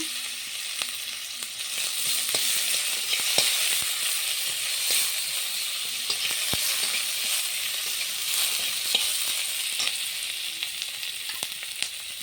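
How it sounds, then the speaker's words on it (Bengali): Chopped onions hitting hot oil with cumin seeds and a bay leaf, a bright continuous sizzle and crackle with occasional sharp pops and light stirring, close by and unaccompanied by speech. "এখন পেঁয়াজ কুচি দিয়ে দেব।"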